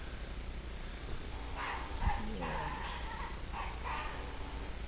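Wild dogs at Adelaide Zoo scuffle inside a cave enclosure, giving a run of muffled barks and yips at a distance over steady background noise.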